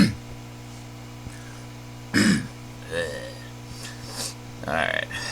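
A person clears their throat and sniffles indoors close to a microphone, a sharp burst followed by a few short, breathy snorts spread over several seconds.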